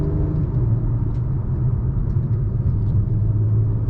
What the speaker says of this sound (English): This V6 does have a nice, peppy, smooth type of power band to it